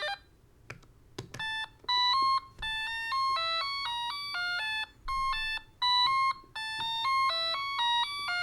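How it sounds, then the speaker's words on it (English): A transparent 3D-printed retro music sequencer plays randomly generated notes, bright electronic beeps stepping through quick melodic patterns in short rhythmic bursts, fairly faint and alone. "Let's listen to a few randomly generated songs."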